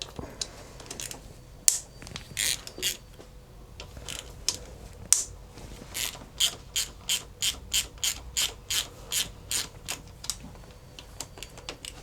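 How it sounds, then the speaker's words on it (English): A ratchet wrench loosens two Allen bolts on the clutch cable bracket of a Yamaha TDM900 motorcycle. It gives quick clicking bursts, irregular at first and then a regular run of close, crisp ratchet strokes. "we're going to do that by removing these two Allen bolts, and the bracket will come off"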